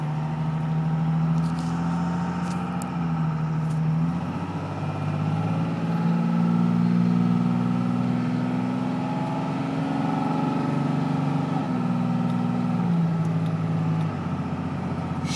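A 1999 Dodge Ram 2500 4x4 quad cab with a Cummins diesel drives on a road with the windows up. Its steady, loud engine drone rises and falls in pitch through smooth gear shifts, and no one speaks.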